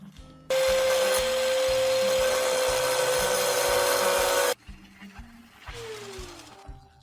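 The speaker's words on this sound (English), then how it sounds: "you can utilize an angle grinder like this one to get the job done" An angle grinder cuts into a broken screw, giving a loud, steady high-pitched whine and grinding that runs for about four seconds before stopping abruptly. A quieter scraping and a falling whine as the disc spins down follow, with no talking.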